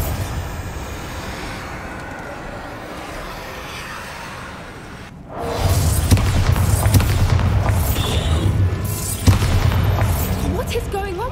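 Bombarda spell explosion in Hogwarts Legacy, a sudden loud booming blast partway through that rumbles on heavily after a quieter stretch of game sound with a voice speaking.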